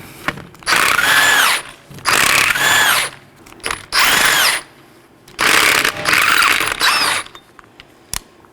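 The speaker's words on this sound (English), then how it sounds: "You'll find 5 19mm lug nuts. Simply take those off." Five 19mm lug nuts come off the right front wheel of a 2018-2024 Chevrolet Equinox, removed with a loud, close impact or power tool in five separate buzzing, ratcheting bursts with short pauses between them.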